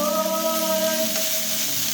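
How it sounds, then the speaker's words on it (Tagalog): Chicken breast strips fry in a pan with a steady, close sizzle and crackle that runs evenly throughout, with no talking. "Kunting fry lang to."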